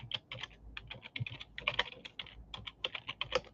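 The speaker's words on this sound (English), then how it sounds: "I'm tired of typing." Rapid, irregular clicking of keys on a computer keyboard, close and fairly quiet, with no voices.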